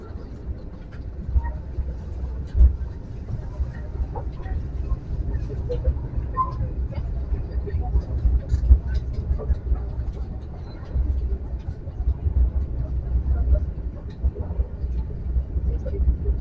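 Inside the Banyu Biru passenger train riding from Solo to Semarang, a steady low rumble of wheels and carriage noise runs throughout with faint rattles, while someone talks over it.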